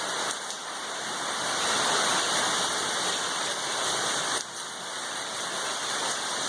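Heavy rain pours down outside as a dense, steady hiss of wind-driven water, loud and close and broken only by a brief dip partway through, with no talking.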